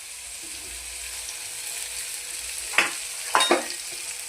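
Wheat noodles being stir-fried in a pan, a steady soft sizzle with a few sharp scraping strokes of the spatula late on, close by and without talk.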